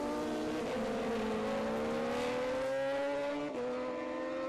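A racing motorcycle screams along the straight at the Cookstown 100 road race, its engine note climbing steadily through the gears with a quick shift near the end, loud and close.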